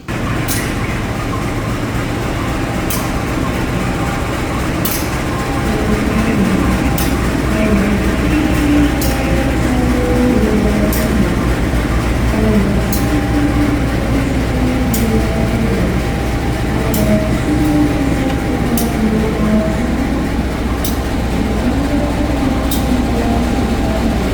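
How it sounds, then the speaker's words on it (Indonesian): Vintage locomotive 20191 coupling onto the stainless steel new generation Progo train on track 2 at an Indonesian station, a steady low diesel rumble with faint periodic clicks and rail noise, continuous and fairly loud. "ini sebentar lagi akan disambung lokomotif vintage 20191 ke rangkaian kereta api Progonya"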